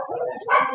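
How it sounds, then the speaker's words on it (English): A dog barks once, loud and close, under ongoing conversational speech in an indoor setting. "excuse the dog"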